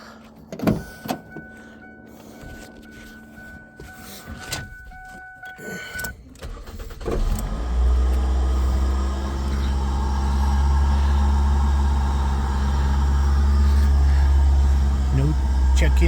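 A 2005 Ford Focus with a 2.0L engine and a cold air intake, 257,000 miles on it, cranks and fires up, then settles into a steady, loud idle. Clicks and a faint voice come before the start.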